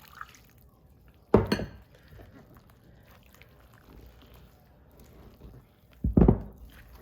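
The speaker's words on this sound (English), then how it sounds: "Let me get the rest of the water in." Water is added to flour tortilla dough in two short, close splashes several seconds apart, with quiet gaps of faint handling noise between them.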